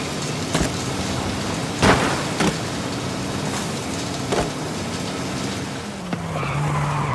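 Racing cars in Forza Horizon 5's seasonal road race drone under a steady engine note, with tires squealing and skidding and several sharp impact thuds scattered along the run.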